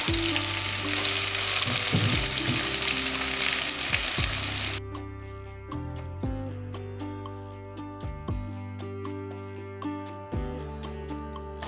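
Small onions frying in hot oil with curry leaves and whole dried chillies, a loud dense sizzle that suddenly drops to a quieter crackle with intermittent stirring clatter, close by and without speech.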